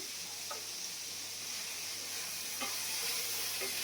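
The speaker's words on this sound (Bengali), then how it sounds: "এবার এগুলো সব একটু ভাজি ভাজি হয়ে যায়" Vegetables with chickpeas and puffed rice fry in a pan for an evening snack, giving a steady, close sizzle and hiss with a few soft stirring clinks.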